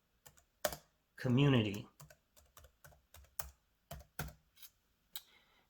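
Keystrokes on a computer keyboard as a description is typed into a GPS map's properties field: scattered, crisp taps with short pauses, interrupted once by a brief spoken word.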